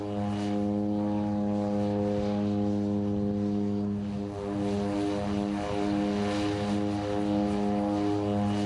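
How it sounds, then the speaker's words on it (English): Seaplane flying between St. Thomas and St. Croix, its propeller engine a steady, loud droning hum with strong low harmonic tones, continuous throughout and heard from nearby without any talk. "The way to get from St. Thomas to St. Croix is by seaplane."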